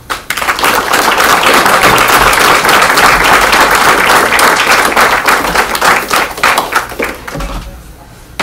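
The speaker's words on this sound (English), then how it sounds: "I think you should all give yourselves a great big round of applause" Banquet crowd gives itself a big round of applause, loud dense clapping close by that builds fast, holds strong, then thins into scattered claps and a few thumps before stopping.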